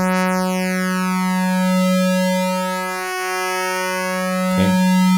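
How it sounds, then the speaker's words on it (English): An Omnisphere 2 wavetable synthesizer tone sweeps continuously, its bright harmonics gliding down and back up around a steady pitch, with a brief glitchy burst near the end. "now you can hear the table as it's going to automatically sweep between the table"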